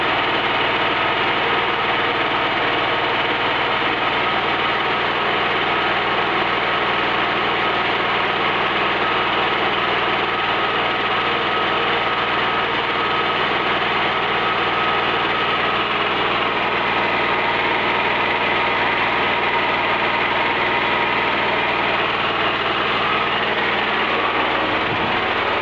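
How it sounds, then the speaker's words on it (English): A Gas-O-Matix9000 small generator engine runs steadily under a 1000 watt electrical load, a loud continuous droning hum with a constant buzzing tone that holds unchanged for the whole stretch with no talking. "Sure enough, the engine picks up on it."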